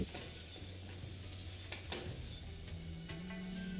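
Soya chunks mixed with spices, including turmeric powder, stirred and frying in a pan, giving a steady low sizzle with soft scraping stirs throughout, moderately quiet and close, with no talking.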